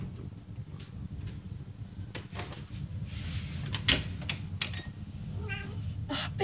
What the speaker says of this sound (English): The cat was in the closet.